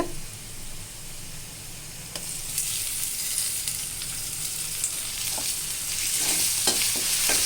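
A spatula stirs food frying in a pan with ginger-garlic paste, soft scraping strokes over a steady close sizzle that grows slightly louder toward the end, with no talking.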